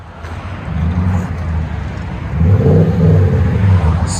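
Toyota Tundra with a 5.7L V8 and a Flowmaster Super 40 muffler rumbles at close range, its deep exhaust note swelling into a louder rev partway through.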